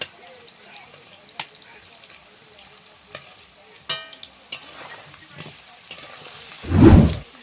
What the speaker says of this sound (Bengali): নাড়িয়ে চাড়িয়ে কচুটা একটু ভেজে নিয়েছি